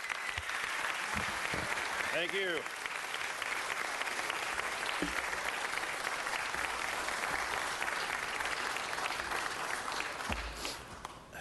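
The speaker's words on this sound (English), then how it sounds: "Give him a round of applause." Applause from the audience at a city council meeting, sustained clapping filling the room at an even level, with a brief spoken thanks over it and a burst of handling noise near the end.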